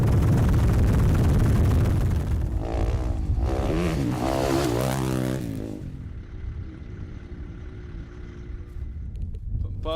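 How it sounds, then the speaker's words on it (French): Rally motorcycles racing through desert dunes during a stage of the 2017 Africa Eco Race, a loud, continuous engine roar rising and falling with revving, fading somewhat toward the end. "Aujourd'hui, Sella a roulé avec Palanders"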